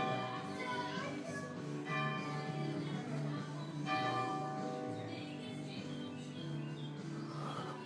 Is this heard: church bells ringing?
yes